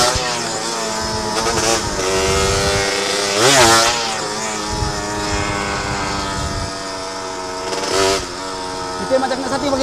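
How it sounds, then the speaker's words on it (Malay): A motorcycle engine idles loudly nearby, revving up in a couple of sharp bursts, with voices talking faintly underneath. "Meletup-letup punya motor aku"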